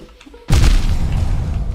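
A sudden booming explosion in the video game Hollow Knight during an explosion pogo move, a loud sharp hit followed by a dense rumbling decay, alone and close.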